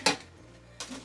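A metal baking pan handled on a work surface while polymer clay pieces are readied for the oven, two sharp clanks about three quarters of a second apart, close and fairly loud, with quiet room tone between.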